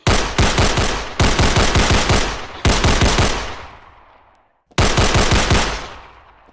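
Loud, close automatic gunfire in a video game, four rapid bursts of shots, each ringing out with a decaying tail and a short silent gap before the last burst.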